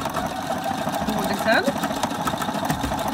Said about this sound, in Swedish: Så nu har symaskinen börjat på godis nummer 2